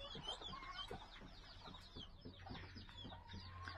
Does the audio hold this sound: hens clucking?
yes